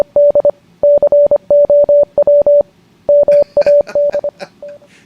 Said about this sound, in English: I created Mad Cow Morse code.